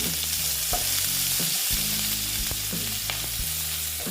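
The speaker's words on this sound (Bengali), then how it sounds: "দেখো বন্ধুরা এই পেঁয়াজটা প্রায় আমার ভাজা হয়ে গেছে" Chopped onions fry in oil in a pan with a constant, close sizzle, punctuated by a few soft clicks of stirring and no voices.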